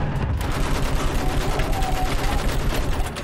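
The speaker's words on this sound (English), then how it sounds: "Use the machine gun! Mow them down!" Machine-gun fire rattles in Battlefield 1 during a World War I trench assault, loud rapid bursts continuing throughout with dense battle noise around them.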